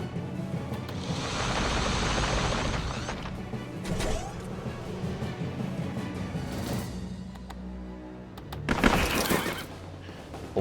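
A horse neighs in a kart-racing video game, a whinnying burst rising loud near the end over continuous game sound and rushing noise.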